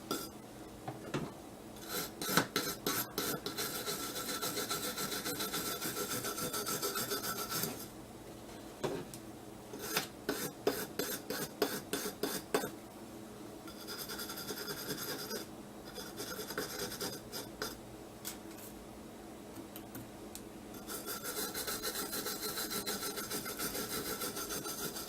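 A brush scrubs grime out of the threads of a Tristar 12-gauge semi-auto shotgun in bursts of rapid, close, raspy strokes separated by brief pauses, no voices.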